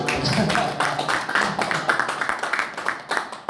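An audience at a Korean church forum claps together after a sermon, a steady patter of hand claps in a mid-sized room that thins out by the end.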